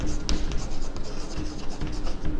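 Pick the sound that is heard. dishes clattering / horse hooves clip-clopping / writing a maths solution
writing a maths solution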